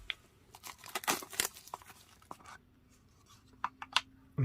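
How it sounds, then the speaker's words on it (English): A plastic-sealed package holding an HDZero Whoop Lite bundle is torn open up close, with a run of crinkling, tearing bursts, a short pause, then a few more sharp crackles, fairly quiet overall. "Let's get this open. It is sealed with plastic."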